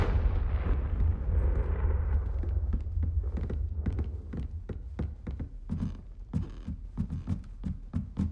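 Confringo blasting curse going off in Hogwarts Legacy: a loud, booming explosion with a rumbling tail that fades over a couple of seconds, followed by a rapid string of sharp cracks and debris impacts.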